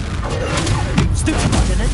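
Incendio and Confringo fire spells cast in the Hogwarts Legacy video game, rendered as a dense run of booming, crackling blasts and thuds that continue steadily under a voice.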